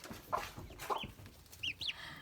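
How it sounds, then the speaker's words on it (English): Soft clucks from a broody hen mixed with a few high, thin peeping chirps from five turkey poults, close by and quiet. "It's Mama Gracie and her brood of 5 baby turkeys"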